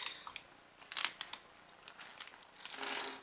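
Small resin Gundam kit parts are snipped free, giving quiet, close clicks and snips scattered irregularly, with light rustling of packaging in between and a soft crinkling toward the end.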